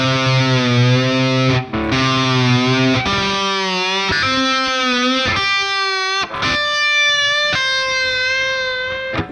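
Distorted electric guitar riff played on a floating-tremolo guitar, with a string bend that pulls the pitch of the other ringing strings. Sustained chords shift pitch in steps, loud and close, and no one speaks.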